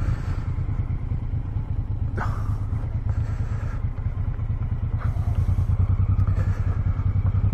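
A Suzuki Boulevard motorcycle ridden along the Great Ocean Road, its engine giving a steady, loud low rumble throughout with a few light clatters and brief wind bursts over the top.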